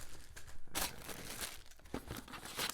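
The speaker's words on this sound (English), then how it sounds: "Yes, it's a nice plastic bag." Plastic bag crinkling while a KORE Aviation pilot headset is unboxed; a few bursts of close rustling and tearing, loudest around the middle, with no talk.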